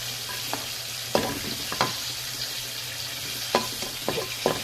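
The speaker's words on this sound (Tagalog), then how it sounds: "Kunti lang yung bawang natin kasi shortage. Brown lang natin sa konti." Garlic frying in a pan for a smoked-meat dish, with a steady sizzle broken by several sharp scrapes and knocks of stirring, close by with no talk.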